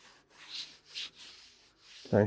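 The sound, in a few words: sanding a Mazda MX-5 Miata body panel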